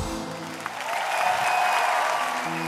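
Steady audience applause fills a concert hall at a performance with an orchestra, a dense, loud wash of clapping that swells slightly and holds, with faint tonal music beneath.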